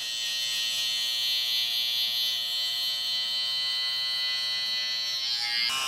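Electric hair trimmer running steadily during an Afro haircut, a close, continuous high-pitched buzzing drone that holds evenly throughout with no talking.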